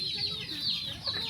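A Lemon Sweater gamefowl rooster clucking close by, a short run of soft throaty clucks in quick succession.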